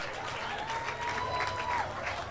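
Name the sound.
crowd applause at tractor pull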